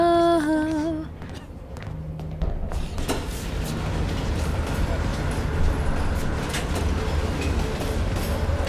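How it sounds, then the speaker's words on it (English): A train in the game Call of Duty: Black Ops Cold War slowing down, a steady low rumble that grows after a short quieter opening with tones and a voice. "Train's slowing down."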